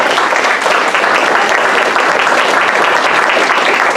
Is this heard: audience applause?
yes